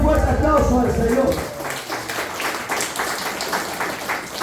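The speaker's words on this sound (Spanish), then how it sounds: "den un fuerte aplauso al Señor" Congregation applause at a church service, a dense wash of clapping that follows a preacher's voice in the first second and a half, then carries on steadily and fairly loud to the end.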